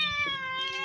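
A cat among a household of ten hungry cats meows once, a drawn-out, clear, nearby mew lasting under a second.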